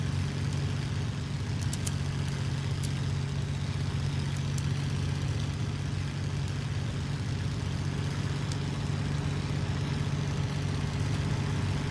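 Aircraft engines in the flight combat game IL-2 Sturmovik Cliffs of Dover, a steady low droning roar holding at constant loudness throughout, with no talk over it.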